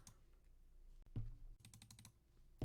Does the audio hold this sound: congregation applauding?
no